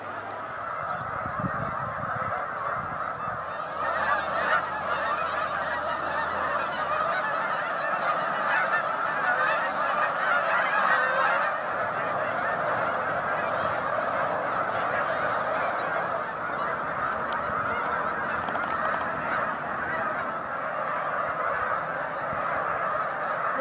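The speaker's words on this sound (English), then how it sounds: "They're tundra swans, I think." A large flock of tundra swans honks loudly and continuously along a migration route in Quebec, a dense chorus of many overlapping calls that fills the whole stretch without pause.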